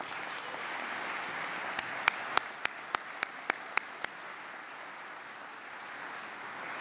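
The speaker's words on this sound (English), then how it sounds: "Let's please give them a hand." A large audience at a State of the State address applauds Supreme Court justices in a soft, distant, sustained wash of clapping, with a few sharper nearby claps standing out briefly midway.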